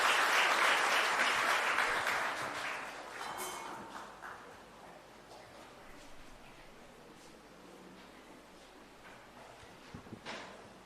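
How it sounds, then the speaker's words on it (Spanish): Congregation at a Mass in the Virgen de las Mercedes chapel in Luque applauding, a strong burst of clapping that tapers off over a few seconds, leaving quiet room noise and a few scattered claps and rustles. "Fuerte aplauso para el Señor."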